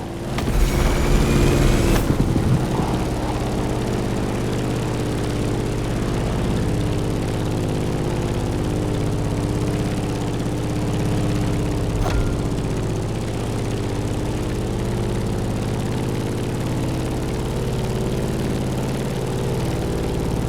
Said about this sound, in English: In the cockpit of a stunning Grumman F-8F Bearcat, or simply the Bear